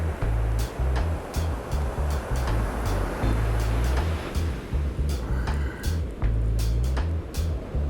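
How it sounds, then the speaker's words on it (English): Heavy ocean surf roars onto a beach during rain, with a continuous loud low rumble and repeated crashing breakers, plus wind noise, close and steady throughout. "When the ocean gets a little crazy. Listen to that roar."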